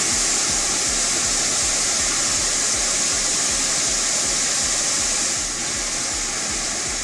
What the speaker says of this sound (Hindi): उत्तराखंड में मसूरी के मशहूर कैंपटी फॉल में अचानक भर भरा कर पानी की तेज धारा बहकर आ गई।